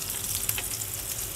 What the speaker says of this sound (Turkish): Burada tamam güzelce kızsın.